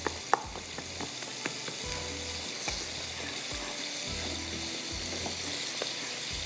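Jaggery and coconut mixture cooks in a pan with a steady, close sizzle and bubbling, broken by scraping stirs and small taps of a utensil and no voices.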